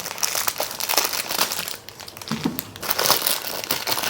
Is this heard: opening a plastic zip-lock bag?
yes